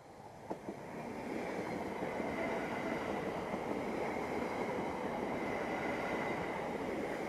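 A Class 710 electric train passes steadily along the line near a foot crossing in Havering, a sustained close rumble of wheels and rail noise with a faint whine, building quickly and holding loud throughout, no voices.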